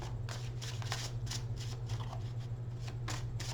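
A deck of cards is riffled and shuffled in quick repeated bursts over a steady low electrical hum.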